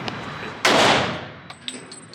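One sharp, loud gunshot cracks at a shooting range, followed by a few fainter, distant shots and small clicks trailing off.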